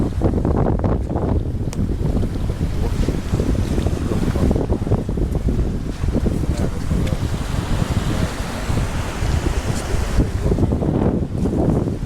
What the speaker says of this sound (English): First we need to ford the water that's pouring off the mountain.